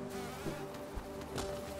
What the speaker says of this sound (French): j'ai plein de petites abeilles